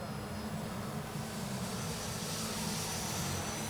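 Freewing F-22 RC jet on landing approach with gear and flaps down, a steady broadband ducted-fan rush with a faint high whine, holding even and fairly loud throughout.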